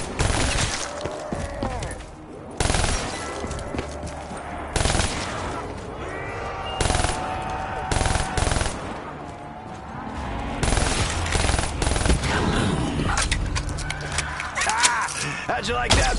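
Two ray guns blasting in a Call of Duty zombies match on Gorod Krovi, loud repeated bursts of energy-weapon fire with explosions and game clutter, mixed under background voices.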